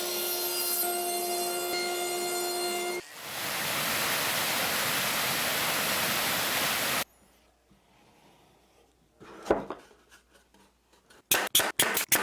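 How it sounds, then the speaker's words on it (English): Steady rough abrasive whooshing of a power sander on wood runs for several seconds, then cuts off, followed by scattered knocks and clicks of handling. "But probably first I'm going to do some finish sanding."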